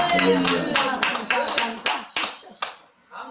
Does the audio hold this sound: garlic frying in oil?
no